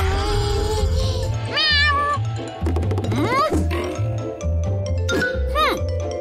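Cartoon kitten meowing several times in short high mews over a steady musical backing, with a grunting, oink-like sound mixed in.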